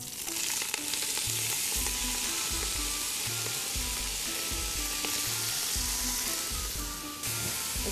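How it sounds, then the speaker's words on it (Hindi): Spinach and garlic sizzle in hot oil in a pan, a constant crackling fry broken by repeated soft scraping bursts of stirring, close and alone. "अब जैसे लहसुन अपना रंग बदलना शुरू करेगा आप इसमें सारी पालक डाल दें"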